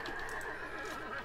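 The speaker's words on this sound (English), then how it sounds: "I can hear horses." Horse whinnying inside the medieval strategy game AD1257 during a bandit battle, a loud neigh carried over a steady din of game sound with a persistent tonal hum, no voices.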